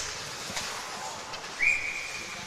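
A referee's whistle blows for offsides at a varsity high school ice hockey game, Menomonie against Eau Claire North: one short, clear whistle tone rings out partway through over quiet rink ambience.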